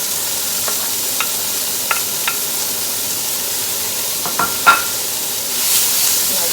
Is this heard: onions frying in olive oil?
yes